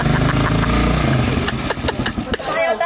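A motorcycle engine running, a steady, loud, rumbling drone with rough pulsing that tails off toward the end, with people talking over it.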